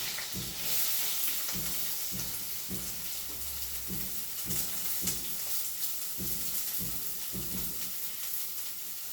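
Chopped onion sautéing in a pan for sweet corn poha, a steady close sizzle with rhythmic scraping stirs every second or so, no talk.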